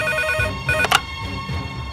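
A telephone rings loudly in a police station office in a Bhojpuri film scene, a steady electronic ring that fills the moment with no voices.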